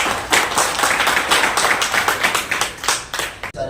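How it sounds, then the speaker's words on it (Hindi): A small crowd at a Shiv Sena press event for a cricket premier league trophy unveiling claps in an uneven, moderately loud burst that stops abruptly near the end. "सबसे पहले तो शिवसेना के लिए एक बार जोरदार वाली तालियां हो जाती है।"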